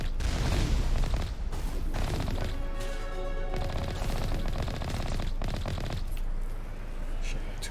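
Rapid automatic gunfire in the Mass Effect video game, sustained bursts mixed with mechanical clatter and game effects.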